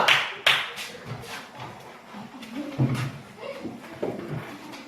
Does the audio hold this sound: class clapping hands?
yes